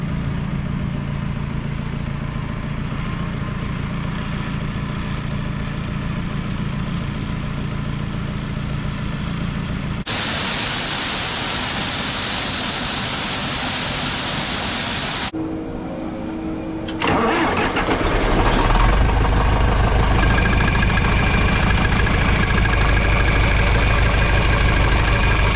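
Engines of a red tractor and combine harvester during a corn harvest in hurricane weather drone loudly and steadily, with abrupt shifts in tone partway through as one engine revs up into a heavier roar.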